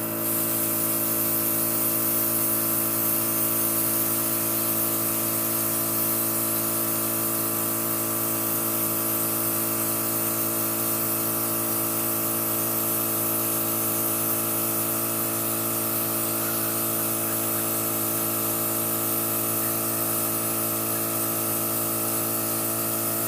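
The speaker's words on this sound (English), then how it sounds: "I always spray a little on my hands to make sure that's working." A steady, continuous hiss of a Temptu airbrush spraying makeup without pause, close and even in level, with no talking.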